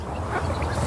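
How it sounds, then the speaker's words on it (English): A duck quacks in a busy outdoor village setting, its calls blending into a dense, loud wash of background noise with no clear separate voices. "That duck over here."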